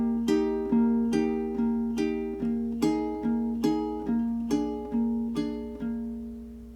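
Ukulele fingerpicking, plucked notes falling on a steady, simple repeating pattern, clean and close with each pluck ringing and decaying before the next, no voices.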